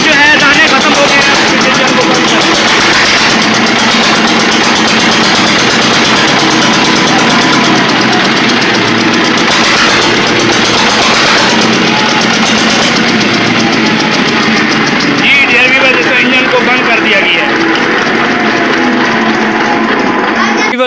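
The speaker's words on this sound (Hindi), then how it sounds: "इस वक्त आप देख रहे हैं कि जो है पीटर इंजन चल रहा है" A Petter diesel engine runs a flour-grinding mill turning grain into atta in a dusty workspace, giving a loud, steady, close drone with a knocking mechanical texture that holds unbroken throughout.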